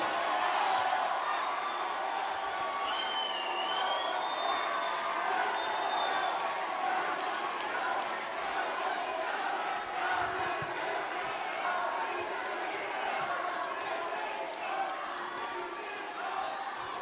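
A crowd at a Democratic Party leadership joint campaign rally in Daegu and Gyeongbuk keeps up steady, distant cheering and shouting, a continuous roar of many voices with faint applause mixed in throughout.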